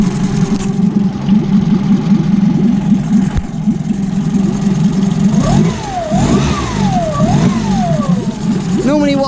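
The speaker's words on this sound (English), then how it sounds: "It's pumping it, and hopefully it's clearing the system of all the salt in the engine." A boat outboard engine idles steadily at tick over while being flushed with fresh water from a bin to clear saltwater, a constant low mechanical hum with some splashing; a brief rising whine appears near the end.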